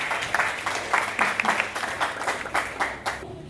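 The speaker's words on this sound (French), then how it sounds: "Que l'Assemblée applaudisse pour eux." An audience at a school ceremony applauds, with moderate, fairly sparse clapping heard from a distance, continuing for a few seconds and then fading out.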